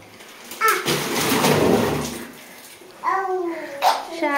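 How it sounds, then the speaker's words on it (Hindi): A water balloon bursts over a child, releasing a loud, rushing splash of water that lasts about a second before fading, followed by children talking nearby. "सारा बलून का पानी गिर गया।"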